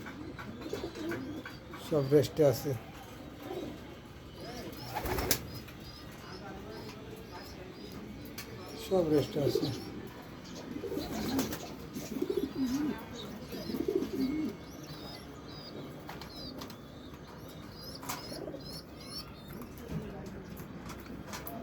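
Racing pigeons tossed over 110 km rest in a loft, cooing softly in low, repeated bursts, with occasional chirps and a voice speaking now and then.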